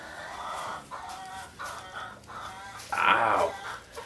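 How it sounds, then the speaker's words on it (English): Homestead chickens clucking busily with a rooster among them, a dense close chorus of overlapping squawks and clucks that rises into a louder, more excited burst near the end. "These chickens are wild today."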